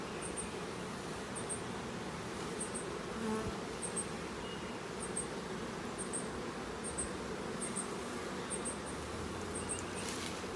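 Dense swarm of honey bees droning steadily during a hive inspection, a continuous close buzz filling the scene with no pauses.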